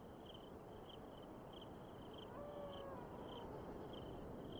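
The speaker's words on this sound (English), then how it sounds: "Hear the crickets?" Crickets chirp in a steady, evenly spaced pulse over a soft background hiss, continuous and moderately faint throughout.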